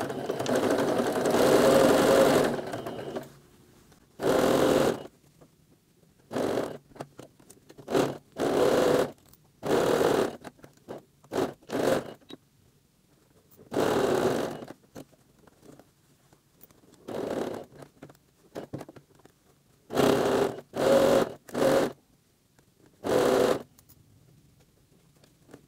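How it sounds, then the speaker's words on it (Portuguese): A domestic sewing machine stitches a fabric face mask with dark thread in repeated bursts of fast mechanical whirring, each a few seconds long and separated by short pauses. "eu vou costurar com a linha escura aqui em cima, que é para vocês visualizarem melhor"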